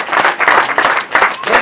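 An audience claps together at a Nepali-language religious gathering, with dense, steady applause rising and falling in waves for a moment.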